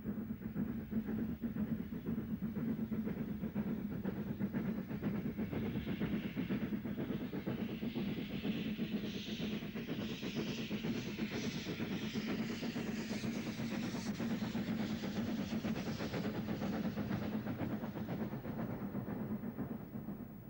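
An LMS steam locomotive works along a British Rail main line, its rumbling chuff and rolling wheel noise steady and loud throughout, with a rising hiss of steam building toward the middle.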